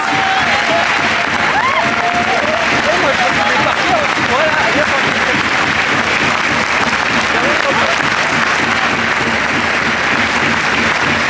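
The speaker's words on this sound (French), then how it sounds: "il y a un tonnerre d'applaudissements" Spectators at an ice hockey match in Rouen give a long, dense roar of applause that fills the arena, loud and continuous, with voices mixed into the crowd noise.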